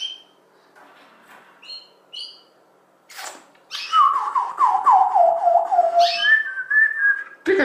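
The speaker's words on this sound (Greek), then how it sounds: "Αυτός εδώ είναι ο μπισμπυρίκος μου." A pet budgerigar chirps with bright whistled notes, a few short chirps at first, then a louder run of rapid warbling calls and sweeping whistles close to the microphone.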